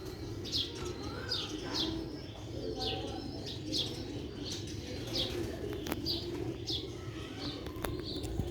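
Tiger breed pigeons coo repeatedly at close range, soft rolling calls arriving every second or so over a low background murmur, with faint chirps and a few wing flutters.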